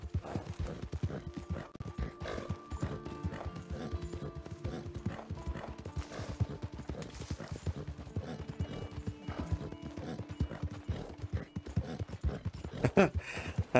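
Horse hooves clip-clop steadily in Red Dead Redemption 2, the horse dirty and tiring faster, a dense continuous rhythm of hoofbeats up close with an occasional whinny, no talk over it.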